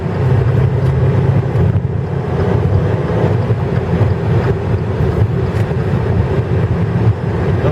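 A 2013 Dodge Dart accelerates while overtaking, its engine a loud, steady low drone mixed with road and wind roar from inside the cabin, with no talk.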